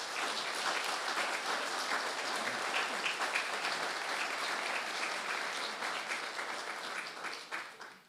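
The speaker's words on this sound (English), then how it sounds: "Can you please give each other an applause," At a memorial toy drive event, the gathered audience applauds one another in a full, sustained burst of clapping that stays steady, then thins and fades out at the end.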